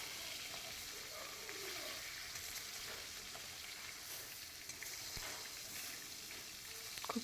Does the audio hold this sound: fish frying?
yes